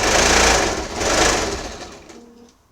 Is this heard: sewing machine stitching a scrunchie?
yes